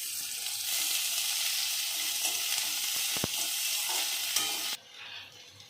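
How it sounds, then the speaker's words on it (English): Chopped onion and spring onion fry in a pan with a bright, continuous sizzle, broken by a brief utensil clack near the middle, before the hiss suddenly drops to a quieter simmer near the end. "add 1 cup of chopped onion. Along with that, I am going to add spring onion. Let this both fry for 2 minutes."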